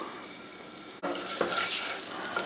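Water from a kitchen tap runs into a sink while a medium pan is washed, a steady close splashing rush that briefly cuts out and then resumes with a louder spatter.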